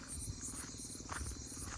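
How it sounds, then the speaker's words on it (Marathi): Night insects chirp in the dark countryside, a faint, continuous trill with pulsing high-pitched calls layered over a quiet background, no voices present. "रात्रीचे ते किडे असतात त्यांचा तो आवाज सगळ्यात बेस्ट"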